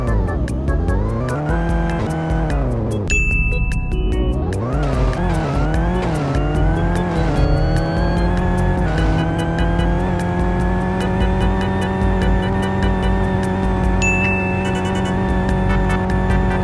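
A car's engine in the Car Driving Indonesia racing game strains steadily while climbing a hill, its tone rising and falling through gear changes, loud and constant throughout with a brief tire squeal near the start.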